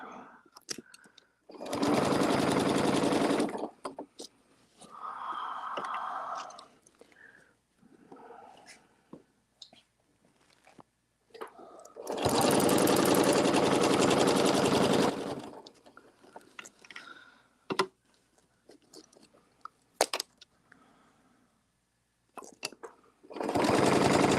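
A sewing machine stitches a quilted placemat in two long, steady runs of fast mechanical whirring, close and loud, separated by quieter stretches of handling noises, small clicks and fabric movement.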